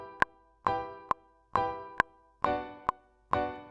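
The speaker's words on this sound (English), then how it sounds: "So it sounds like both hands are on the piano banging at the same time." Reggae beat piano with a chord trigger adding an octave, giving a both-hands feel: short, punchy stabbed chords alternate with sharp clicky accents in a steady off-beat skank rhythm, about two hits per second, dry and up close.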